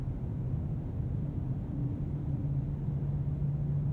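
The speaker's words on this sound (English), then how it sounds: "we can also hear at these highway speeds that though you can sense the wind noise is there, it's like the car is batting it back" Cabin noise inside a 2022 Mercedes-Benz S 580 at highway speed: a steady, subdued low rumble and hum of wind and road, with no talking.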